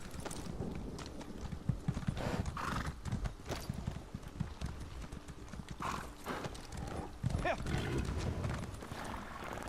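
A horse gallops in the fantasy role-playing game The Elder Scrolls Online: Morrowind, with steady, rhythmic clip-clop hoofbeats close by and occasional snorts, moderately loud throughout.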